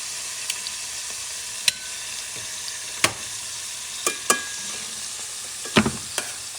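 Thin slices of meat frying in a pan for sukiyaki, a steady low sizzle broken by a few sharp scrapes and clacks as the slices are stirred and moved, close by with no talking.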